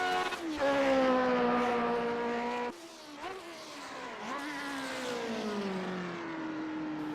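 A 1967 Lotus 49 Formula One car at Watkins Glen, its engine roaring loud and near, then dropping after a gear change and settling into a steady, slightly falling drone with brief pitch dips.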